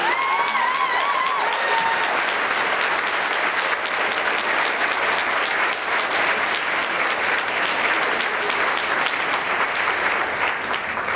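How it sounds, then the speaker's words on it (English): Sustained, full audience applause honoring cancer survivors at an inspirational gathering in Nashville, a dense, even wash of many hands clapping that holds steady and loud, with a brief vocal cheer near the start. "Can I get a round of applause for all of our survivors?"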